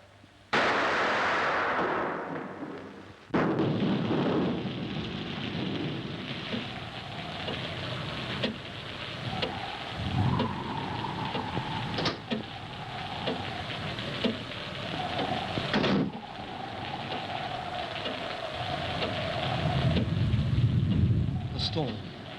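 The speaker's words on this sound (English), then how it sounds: "The storm. I can't sleep. The noise." Thunderstorm with heavy rain in a 1950 film: a steady hiss of downpour broken by several sharp, loud thunder cracks, with voices faintly present beneath.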